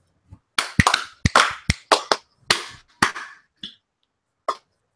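Sharp bursts of hand clapping break out in scattered groups on a livestream countdown, loud and close, with several rapid claps then isolated trailing ones.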